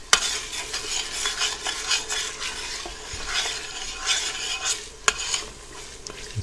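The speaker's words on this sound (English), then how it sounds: "Let me get this, stir this up." A spoon stirs a hot pot of sizzling broth with fermented black soybeans, giving a steady close scraping and bubbling frying hiss with a few sharp utensil clinks, and no talking.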